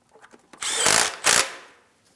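A power tool runs in two close, loud bursts to snug a 10mm mounting bolt holding a plastic panel on a 2007-2014 GMC Sierra 2500 HD with a 6.0L V8, the second burst briefer, then winds down.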